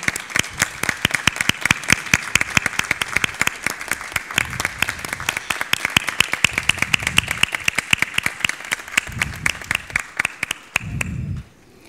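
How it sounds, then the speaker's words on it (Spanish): Audience applauding at a kindergarten graduation ceremony for five-year-olds, a steady run of many hands clapping for about eleven seconds with dense, crisp claps that stop abruptly at the end. "un fuerte aplauso"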